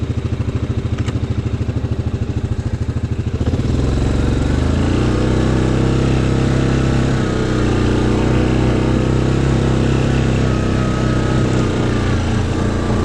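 A Grizzly 700 SE ATV engine in full low climbs a steep hill, first a loud chugging idle-like rumble, then a sustained heavy, throaty drone under strain as the rider powers upward, close and continuous throughout.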